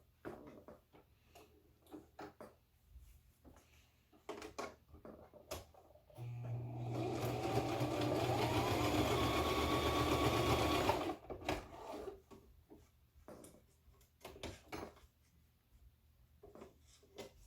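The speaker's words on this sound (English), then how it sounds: "I'll show you how to do it with the sewing machine" Sewing machine stitching fabric, a fast mechanical whir with rapid ticking that runs for several seconds in the middle, framed by quiet handling clicks and rustles before and after.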